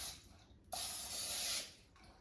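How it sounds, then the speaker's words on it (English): One short burst of non-stick cooking spray from an aerosol can hisses for under a second into a pan, close and fairly quiet, with faint background noise around it. "I'm also going to spray it with a non-stick cooking spray as well"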